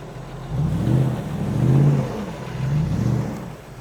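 A stuck Lexus GX470 engine revs in repeated surges while trying to drive out, rising and falling in three loud, close swells with no talk.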